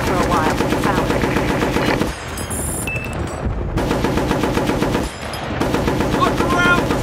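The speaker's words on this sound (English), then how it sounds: "Machine gun in the tree line!" Sustained bursts of rapid automatic gunfire, loud and close, with a brief lull in the middle before the firing resumes; no talking.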